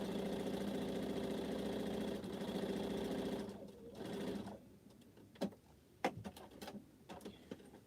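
A sewing machine stitching over a quilt runs with a steady mechanical hum for about four seconds, then stops, followed by a few sharp clicks and taps.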